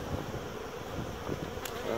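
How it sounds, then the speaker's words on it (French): Dense, continuous buzzing of many agitated honeybees at an open hive, close and steady throughout with no talking. "Oh, beaucoup d'abeilles."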